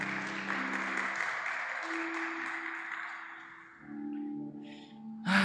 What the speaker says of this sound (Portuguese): Você pode aplaudir o Espírito Santo?